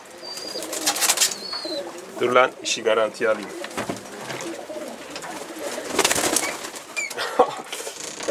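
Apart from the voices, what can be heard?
pigeon cooing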